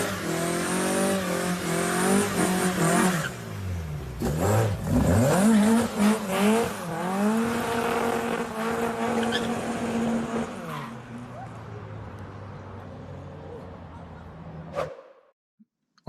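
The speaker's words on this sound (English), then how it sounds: "That thing lives on the rev limiter." A turbocharged Zetec-engined Ford Orion race car revs hard, its engine note rising and bouncing repeatedly off the rev limiter in loud, stuttering sweeps, with a tyre squeal, before dropping away and falling silent near the end.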